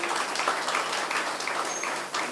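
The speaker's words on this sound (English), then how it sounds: "give a round of applause to the staff of the Cultural Division for a job well done" Applause from an awards ceremony audience, a soft, fairly distant wash of clapping that continues steadily for a couple of seconds.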